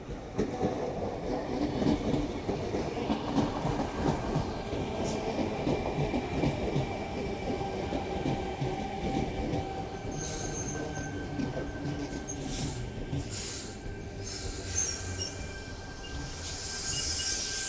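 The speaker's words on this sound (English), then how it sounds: "Here we've got Tangara T64 arriving alongside platform number 4." Sydney Trains Tangara T64 electric train pulling into platform 4 at Burwood station, a steady loud rumble of wheels on rails with high squealing and clicking as the carriages roll alongside, no talking.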